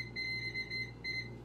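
A kitchen oven timer being set before cooking gives a series of faint, high, evenly spaced electronic beeps over a steady low hum.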